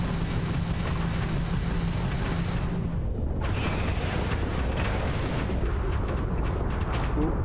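Particle turrets firing in Starfield, a dense barrage of booming, crackling bursts that runs continuously and loud, with a brief dip near the middle before the heavy fire resumes.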